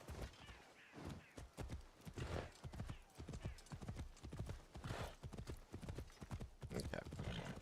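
Rhythmic hoofbeats of a horse clip-clopping steadily through Assassin's Creed Shadows, close and prominent, with occasional gameplay effects and a voice talking over the top.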